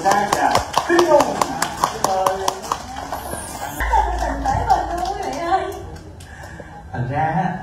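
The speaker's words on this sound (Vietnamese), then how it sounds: "hãy dành một tràng vỗ tay" Guests at a wedding-style gathering clap in sharp, close, individually distinct claps, with a voice and chatter mixed in, then the clapping thins out as people start talking.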